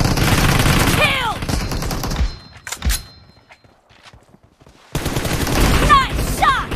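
Rapid bursts of gunfire from the battle royale video game PUBG rattle loudly, then drop to a near-silent gap with a few isolated thumps before another dense volley resumes, with game voice cues mixed in.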